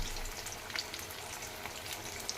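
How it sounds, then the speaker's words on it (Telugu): Potato wedges fry in a pan with a faint, steady sizzle and light crackle, heard alone over a few quiet seconds. "అయ్యో చూసారా అలా వేగుతాయి అన్నమాట మనం ఇలా తిప్పుకుంటూ ఉండాలి"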